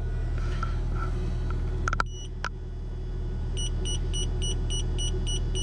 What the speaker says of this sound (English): And that is the god-awful incessant beeping.